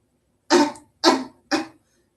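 Three sharp, close coughs in quick succession, each fading fast, with silence between and after.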